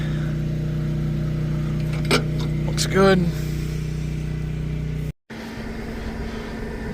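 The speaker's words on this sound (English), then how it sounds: "Let's see how our tractor runs." John Deere 9R farm tractor engine idling steadily and close, a low constant drone with a brief rev, while a person speaks over it and a door or cab noise cuts in near the end.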